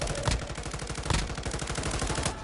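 Automatic gunfire in Modern Warfare 3, the Call of Duty shooter: loud, rapid bursts of shots fire almost without a break, with sharper, heavier reports standing out near the start and again around the one-second mark.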